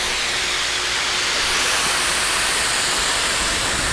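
An 8HP made-in-USA pressure washer blasting water onto a concrete driveway from three or four feet away, a loud continuous broadband hiss without a break.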